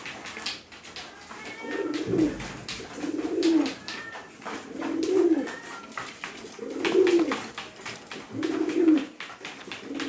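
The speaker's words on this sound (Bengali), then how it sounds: "এখানে বিভিন্ন প্রকার লাক্ষা কবুতর আছে।" Lakha pigeons kept in a loft coo steadily in soft, low, rounded phrases that repeat about every two seconds, close by, with faint bird chatter behind and no talking.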